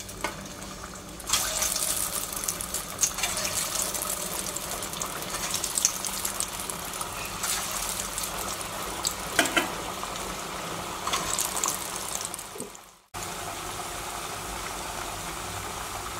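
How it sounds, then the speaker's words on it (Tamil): Beetroot vadai deep-frying in hot oil over a medium flame, Chettinad-style snacks. A steady, dense bubbling sizzle runs throughout, with a brief dip near the end before the sizzle resumes. "எண்ணெய் காஞ்சிருச்சு. இப்போ நம்ம வடையை போட்டு எடுத்துடலாம்."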